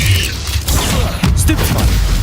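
Depulso spell cast in Hogwarts Legacy, a loud, dense magical blast with a sharp burst near the middle and a brief bright whoosh, sustained booming rumble throughout.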